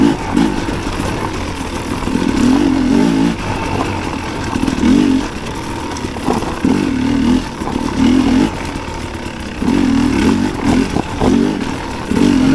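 A Sherco motorcycle with a Smartcarb carburetor runs rough nearby, its loud engine surging and sagging in uneven pulses with clattering mechanical noise throughout.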